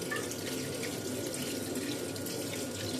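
New potatoes rinsed under a running kitchen tap, the water pouring in a steady, close, continuous rush into the sink with no break.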